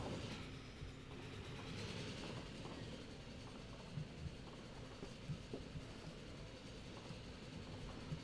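An express passenger train in the video game Transport Fever 2 runs steadily with a faint, continuous rolling rumble and light rhythmic clickety-clack from the wheels, heard alone at low level.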